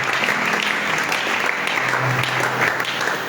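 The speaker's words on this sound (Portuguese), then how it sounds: "Aplauda fortemente para a glória do Senhor." A youth congregation in church applauds loudly, with dense, steady clapping filling the whole stretch and a faint murmur of voices underneath.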